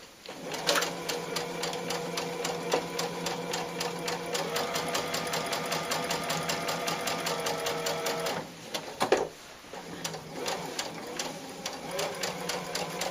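A sewing machine stitches cloth doll bodies in a strip, its needle hammering in a fast steady rhythm with a mechanical whir, briefly pausing and restarting partway through, close and continuous.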